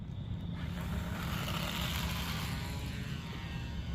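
A Maule aircraft landing in a flight game produces a steady, close propeller-engine drone with a broad roar, constant in level for a few seconds with no talking.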